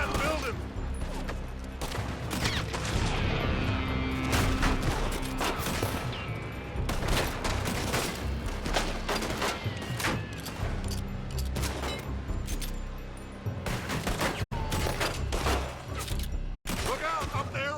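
A Red Dead Redemption 2 gunfight with shots coming from a building, rifle and pistol fire cracking in loud, irregular volleys amid booms, music and shouted voices.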